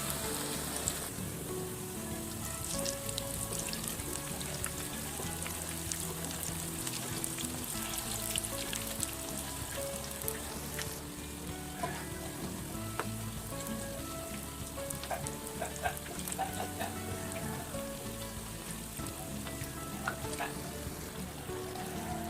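Homemade McDonald's-style potato hash browns deep-fry in hot oil, a steady dense sizzle and crackle that holds at constant loudness throughout with no talking.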